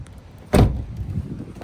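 A car door on a 1997 car at a police towing auction thuds shut once, a single sharp close slam followed by faint rattling.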